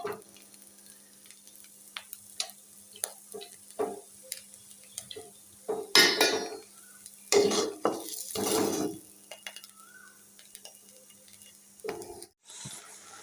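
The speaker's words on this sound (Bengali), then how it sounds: "এদিকে প্রেশারে ভাত বসিয়ে দিয়েছি দুই চুলা রান্না বান্না চলছে" Cooking on two stoves in a home kitchen, with rice in a pressure cooker, brings scattered clinks of utensils and pans, stirring scrapes and some frying, with louder clatter bursts in the middle of the stretch.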